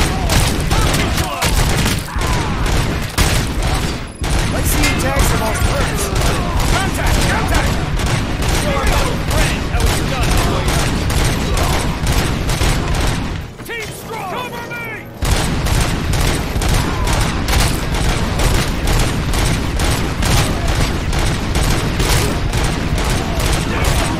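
Dense, continuous gunfire from RoboCop: Rogue City pounds away in rapid rounds with booming impacts, loud and nearly unbroken apart from a brief lull midway, with voices talking over it.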